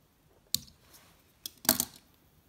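Scissors snip through holographic tinsel while a Perdigon nymph is tied at the vise: a few short, crisp metallic cuts, close and fairly quiet, with a louder cluster of snips near the end.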